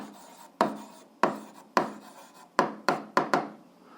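Chalk or marker strokes for algebra on a classroom board, a series of short sharp taps and scratches, about seven distinct strokes in irregular rhythm, close and alone.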